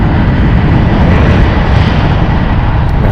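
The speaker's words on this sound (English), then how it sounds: "Runway 1 right is departing for that 777." A Boeing 777 departs San Francisco International Airport with a loud, close, continuous engine roar that rumbles steadily throughout, with no voices.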